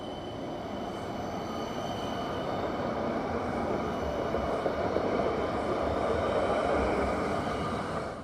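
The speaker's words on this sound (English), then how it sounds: "Here's a tram departing from the Westmead Hospital stop." A light rail tram departing a stop rumbles steadily throughout, a continuous low rolling drone with faint high tones, neither fading nor building much, with no talking.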